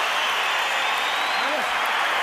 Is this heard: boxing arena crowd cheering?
yes